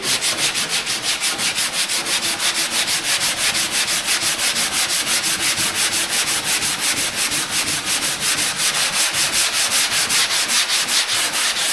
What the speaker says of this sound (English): And we're just going to do the same thing. Sand right up to your tape.